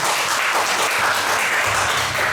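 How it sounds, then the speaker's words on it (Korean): An audience at a church reform forum claps continuously to welcome a presenter, a dense, steady wash of applause filling the room without voices. "박수로 맞이해주시면 감사합니다."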